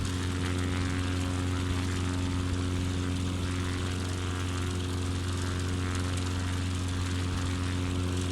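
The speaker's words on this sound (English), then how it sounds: "let's get this plane turning around here" Propeller airplane engine in Microsoft Flight Simulator 2020, a loud, steady droning hum with strong low harmonic tones that holds constant throughout, close and continuous with no speech over it.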